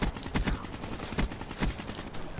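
Gunfire in Black Ops 3 multiplayer, loud game shots in irregular bursts and single cracks over a dense, busy battle background, with no talking.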